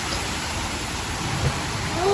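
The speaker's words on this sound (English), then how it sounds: "I love the rain." Steady rain falls outdoors as a dense, even hiss that fills the whole stretch, close and moderately loud, with a voice faintly present underneath.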